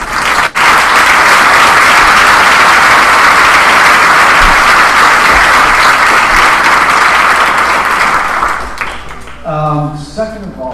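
Loud, sustained applause from a large audience at a summer school exhibition opening ceremony, a dense wash of clapping lasting about nine seconds before tapering off as a voice begins speaking.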